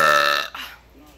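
A single loud, drawn-out burp in a burping competition, close to the microphone, fades into quiet after about half a second.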